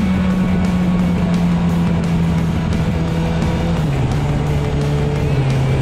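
Steady engine drone from a 2005 Suzuki GSX750F motorcycle, holding an even pitch and dipping slightly in tone toward the end, loud and continuous with no talk.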